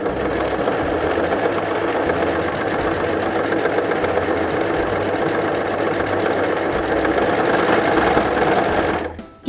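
A Brother CV3550 coverstitch machine runs steadily, sewing a narrow cover stitch with its needles and looper in a continuous fast mechanical whir and rhythmic clatter, close and alone, stopping abruptly at the end.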